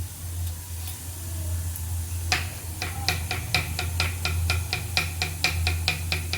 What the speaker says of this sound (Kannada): ಎಷ್ಟು ಚಿಕ್ಕದಾಗಿ ಹೆಚ್ಚುತ್ತಾ ಇದ್ದೀನಿ ನೋಡಿ